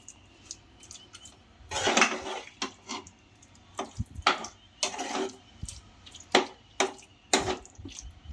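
Chicken malai handi gravy is mixed in a pan, with soft wet squishing and repeated spoon scrapes and clinks coming in uneven bursts over a quiet background.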